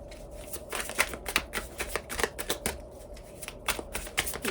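A deck of oracle cards is shuffled up close in a quiet room, with rapid, uneven riffling and flicking that comes in repeated short bursts.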